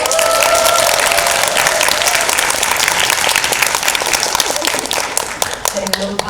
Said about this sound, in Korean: 여러분 박수 감사합니다.